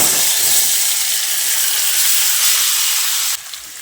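Marinated jackfruit goes into hot oil tempered with cumin, giving a loud, dense, steady hiss of sizzling up close that drops away abruptly near the end.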